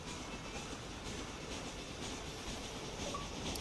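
A train passing in Red Dead Redemption near Thieves Landing, heard as a faint, steady rolling rumble with a soft wheel squeal, distant and without speech.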